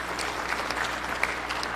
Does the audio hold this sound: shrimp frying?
no